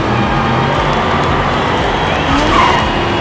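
Diecast toy race cars, a Mustang, a Cupra and a Jaguar, rolling along a track in a steady loud whirring rush with a faint squeal, no talking.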